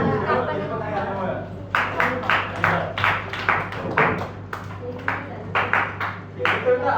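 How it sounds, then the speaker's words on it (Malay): A classroom of pupils claps together in a lesson: after a second or so of chatter, sharp rhythmic bursts of group clapping begin and repeat in a steady beat, close and fairly loud. "Kita tepuk tangan semua."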